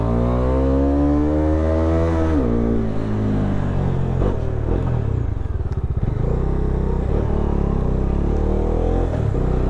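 A Bajaj Dominar 250 motorcycle rides on a wet road, its engine droning loud and close with a falling pitch, then a lower rumble with gear-change shifts and faint clatter.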